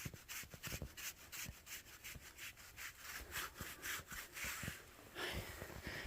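A hand scratches a horse's chest vigorously. Close, dry rasping strokes repeat in an uneven rhythm throughout, with no voices.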